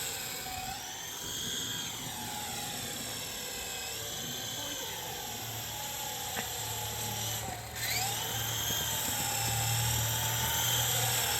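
A toy remote-control helicopter flies nearby with a steady high whine and buzzing rotor hum that bends in pitch as it maneuvers, over a constant low drone.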